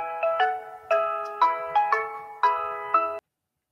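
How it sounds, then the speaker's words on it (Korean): An outgoing phone call ringing back: a bright electronic ringtone repeating in short melodic bursts, loud and close, ending abruptly after about three seconds. "자, 전화 한번 해보겠습니다"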